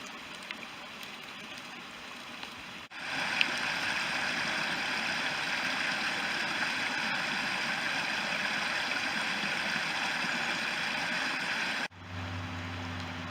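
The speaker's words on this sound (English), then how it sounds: "Sorry about the road noise." Steady road traffic noise at the edge of woodland in the rain, a constant broad rushing hiss that holds for about nine seconds and ends abruptly, with no talk.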